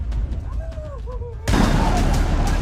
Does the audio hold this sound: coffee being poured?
no